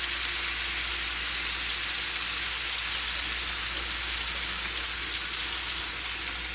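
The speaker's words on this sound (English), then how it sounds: "Now I'm going to add the shrimp, and with me, I'm actually just going to heat this up because this shrimp is pre-cooked." Pre-cooked shrimp heating in a pan with olive oil and ghee, giving a steady, even sizzle and crackle that continues without letup throughout, close and moderately loud with no talking.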